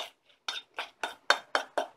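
Fried rice with spring onion and soy sauce being stirred in a pan, about seven distinct scraping, clinking strokes of the utensil against the pan in a steady rhythm, close up with no talking.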